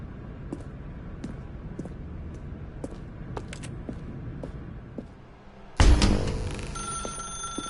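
A telephone rings in The Stanley Parable video game: repeated short bell-like rings tick along quietly in an office ambience for several seconds, then a louder burst of noise cuts in and takes over.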